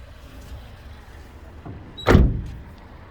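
A one-ton company van with shelves and a tow package has its unlocked door opened: a single sharp latch clunk and thump stands out over quiet outdoor background, followed by a brief fading rattle.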